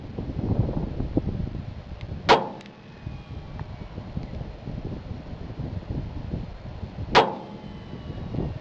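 Two sharp, loud reports from a Smith & Wesson Bodyguard 380 pistol firing CCI Blazer brass ammunition, spaced about five seconds apart over quiet outdoor background noise.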